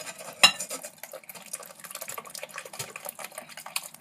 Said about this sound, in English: you must keep stirring until all of the milk is mixed into the brown sugar